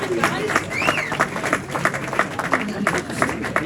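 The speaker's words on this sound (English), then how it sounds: "let's have a big round of applause for Ben Cook, everybody" Applause at a Belle Vue v Ipswich speedway press conference, a moderate crowd clapping steadily throughout the few seconds while a voice talks over it.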